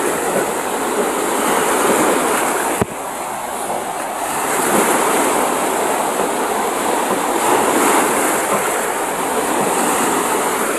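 Steady, loud roar of heavy ocean surf and strong wind, large waves too rough to go out to sea, continuous broadband rush with no pauses, close and enveloping.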